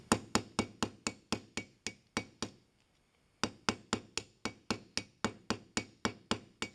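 A soft brass pin hammered into a hinge barrel, a brisk, evenly spaced run of sharp metallic taps close up, a short silent pause, then another steady burst of repeated strikes.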